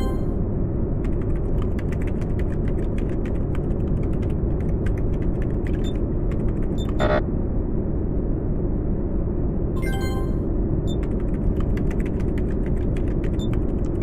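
A printer in a horror survival video game runs with a dense mechanical clatter and creaking ratchet-like whir, loud and continuous, with brief sharp clicks and a short pause before it resumes.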